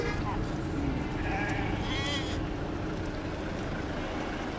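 A herd of about 7000 sheep bleats in scattered calls around a constant rumble of movement and hooves, while people talk nearby throughout.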